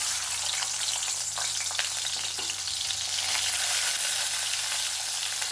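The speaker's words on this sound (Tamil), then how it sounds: "நல்ல வெங்காயத்தை வதக்கி எடுத்துடலாம்" Shallots mixed with onions sautéing in sesame oil in a kadai, giving a loud, dense, continuous sizzle with a few faint stirring scrapes, close up and with no talking.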